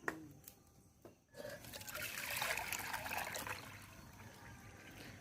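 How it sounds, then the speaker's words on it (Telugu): Water is poured into a vessel of rice flour while making crispy vadiyalu, a soft trickling stream that swells into a steady pour after a brief knock and then eases off, fairly quiet. "మూడు కప్పులు నీళ్ళు ఇప్పుడు పిండిలో పోసుకోవాలి"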